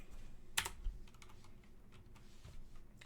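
Fast, light keystrokes on a computer keyboard while coding a C++ game engine, a steady patter of soft clicks with one sharper tap early on, faint and close in a quiet room.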